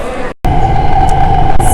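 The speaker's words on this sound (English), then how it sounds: "So we're on the train in Shenzhen." Train interior in Shenzhen, a steady loud rumble and hum of a moving carriage with a brief dropout near the start.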